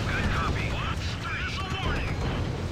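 Gunfire and explosive rumble from the Act of War battle game roll on steadily under a voice, with whistling, warbling tones drifting over a dense low roar.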